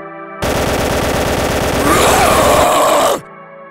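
A machine gun in a zombie apocalypse video game fires one loud, continuous, rapid burst of about three seconds. It starts and stops abruptly, with a game soundtrack humming faintly before and after.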